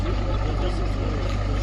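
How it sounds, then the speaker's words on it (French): Rally vehicles with engines running at the start of a raid event, a steady low idling rumble filling the brief moment without pause. "Et les moteurs sont en route."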